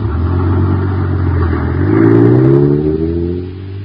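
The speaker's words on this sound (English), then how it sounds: "Zooming down the highway, pulled along by an honest-to-goodness motor truck" A motor truck hauls a huge rocket-shaped clubhouse down the highway, its steady engine drone swelling to a revving peak midway and then easing off, with no voices.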